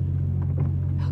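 A car engine hums as a low, steady rumble while it drives along in the video game Silent Hill Shattered Memories, with a few faint higher noises on top.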